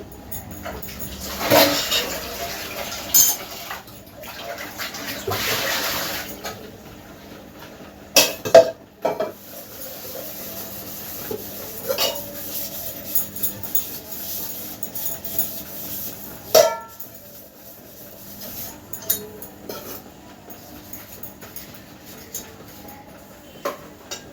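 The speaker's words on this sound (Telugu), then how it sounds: "కుక్కర్ విజిల్ ఆరే లోపల నేను ఇప్పుడు గిన్నెలు అయితే కడిగేసుకుంటాను." Dishes being washed by hand under running water in a home kitchen: intermittent clinks and clatters of pots and utensils over a soft water wash, with a few sharp knocks.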